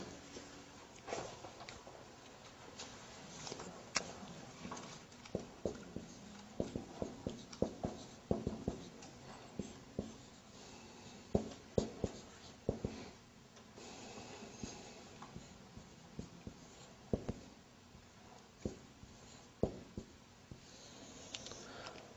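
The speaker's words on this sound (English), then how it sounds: "I'm going to write down." Marker or chalk scratches across a board during an Arabic grammar lecture, heard as faint, irregular strokes and taps in a quiet room with no talking.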